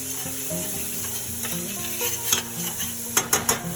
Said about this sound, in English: we also want to reduce the wine down a little bit at the same time